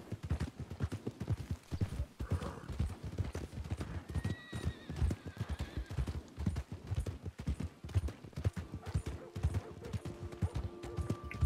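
Horse hooves from a video game ride, a steady, brisk clip-clop of a trotting horse close up, with a whinny partway through and faint game ambience underneath.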